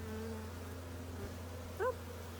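Low, steady buzzing of many honeybees close by during a hive inspection, a continuous drone with a brief higher squeak partway through.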